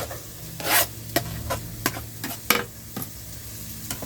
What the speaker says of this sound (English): Let's go ahead and throw the garlic in with that onion.